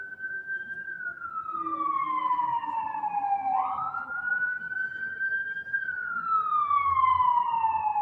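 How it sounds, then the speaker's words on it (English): Emergency sirens wail through New York City, a long rising and falling tone sweeping slowly over several seconds, fairly loud above a low traffic rumble, with no talk. "But I never hear that many sirens."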